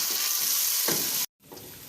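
Tomatoes cook down in a pan of masala for fish head curry, giving off a steady, close sizzling hiss that cuts out briefly near the end and then resumes more softly.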